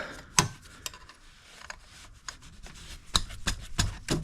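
A ratchet works on the alternator bolts of a Classic Mini, giving scattered sharp metallic clicks and clunks with quiet gaps between them, close and fairly faint.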